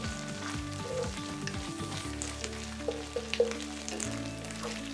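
Fish curry with tomato paste frying in a pan while being stirred, a steady close sizzle with soft scraping strokes and a few brief clinks, no voices.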